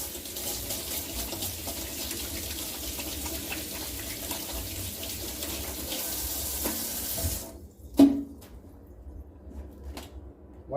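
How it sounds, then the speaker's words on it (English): Tap water running into a kitchen sink as hands are washed before handling raw turkey wings, a steady loud gush that stops abruptly, followed by a clunk and a few quieter splashes and clatters. "Before I put them in there, of course, we have to wash our hands."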